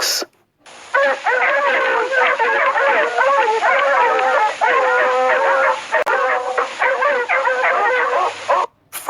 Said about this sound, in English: Fox.